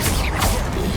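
A Bombarda spell explosion in Hogwarts Legacy, one loud, dense, sustained blast filling the whole short moment, with no talk.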